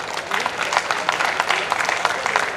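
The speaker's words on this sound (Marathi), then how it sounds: "जोरदार टाळ्या वाजवा यांच्यासाठी एकदा." Audience applause at an alumni meet, a short burst of dense clapping from a crowd filling the room, steady and fairly close with no voices over it.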